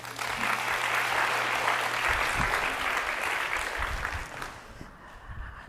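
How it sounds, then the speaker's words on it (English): A conference audience at a women-in-tech event applauds after a talk, a steady wash of clapping that holds for several seconds before thinning out, with a low hum at the start and light voices near the end. "A big round of applause."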